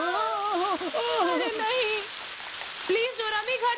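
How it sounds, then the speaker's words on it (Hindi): Steady rain falls during a hike, a broad hissing wash that runs through the whole stretch beneath excited voices talking over it. "ओह नो, बारिश!"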